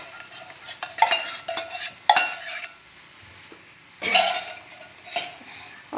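Ghee goes into a pan of semolina halva being stirred, with close scraping of a metal spoon against the pan and a few clinks, in uneven bursts and lulls.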